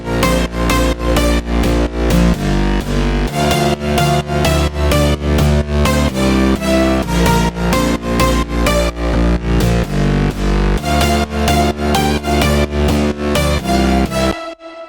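An EDM drop chord progression plays with the lead and mid bass layered together, a dense, loud electronic mix pulsing in steady rhythmic stabs for the whole stretch, with no talking.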